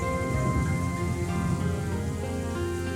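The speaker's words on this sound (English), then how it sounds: "Yeah, the rain droplets on the screen." Steady rain falls in the video game Trails in the Sky SC, a dense continuous hiss of droplets over a low rumbling bed, with music tones layered in and no voices.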